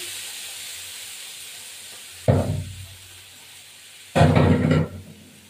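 Ginger-cumin paste and garlic paste dropped into a hot pan, giving two loud, sudden sizzling bursts a couple of seconds apart. Each burst fades into a steady hiss close by, with no voices.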